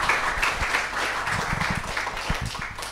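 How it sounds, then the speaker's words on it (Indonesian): An audience at a university seminar at Stikom Bandung on the 2024 election gives a lively round of applause for two guest speakers, a continuous wash of clapping at moderate loudness. "boleh berikan tepuk tangan meriah dong untuk kedua narasumber kita"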